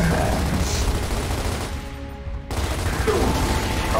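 Dense, continuous gunfire in the shooter game Gears of War Ultimate Edition, loud and sustained with a brief lull in the middle before the shooting resumes.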